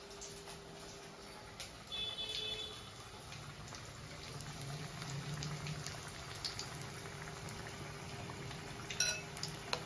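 Mirchi bajji, battered chilli fritters, frying in hot oil, a steady soft bubbling sizzle with faint clinks of utensils, quiet and close with no talk.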